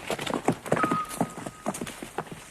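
Horse hooves clip-clop past at a brisk pace, a rapid rhythmic clatter up close, with a faint whinny-like tone briefly in the background.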